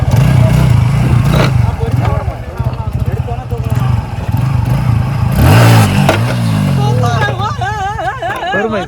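Motorcycle engine revving hard during a one-wheel wheelie attempt, a loud rising and falling roar with throttle surges, close up under a crowd of people talking and shouting.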